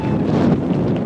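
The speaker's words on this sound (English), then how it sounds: "is it windy now?" Wind gusting across an outdoor soccer field during a high school game, a steady broad rush of buffeting air pressing on the microphone throughout.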